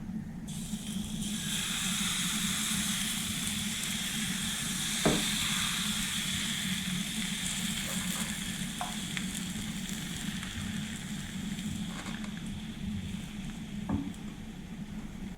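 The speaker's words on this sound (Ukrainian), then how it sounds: "Коли сковорідка добре розігрілася, починаю обсмажувати млинці." Pancake batter sizzles steadily in a hot pan, a constant frying hiss with occasional faint clicks and scrapes, close up and without talk.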